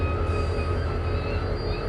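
In the Trainz 2022 simulator, a train creeps along at about four miles an hour while struggling to stop, giving a steady low rail rumble with faint sustained whining tones and no talk.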